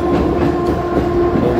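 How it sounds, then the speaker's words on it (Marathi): A Mumbai suburban local train at Dombivli station gives a loud, steady low rumble and hum close by, with faint wheel clatter running through the short stretch. "लोकल ट्रेन लागली आहे बघा"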